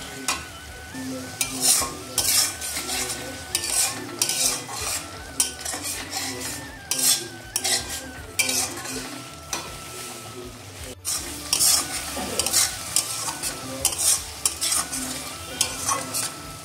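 Spice paste with ground cumin frying in a pot as a little water is added for a chickpea and potato curry, giving loud sizzling bursts with repeated metal spoon scraping and clinks against the pan.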